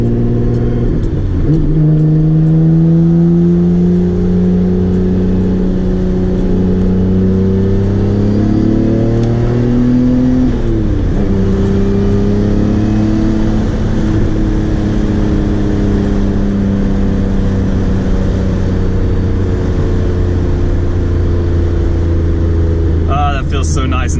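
Nissan R32 GTR fitted with an R33 engine pulls hard under acceleration, a loud engine note rising in pitch through two gear changes near the start and middle, with continuous road and cabin noise.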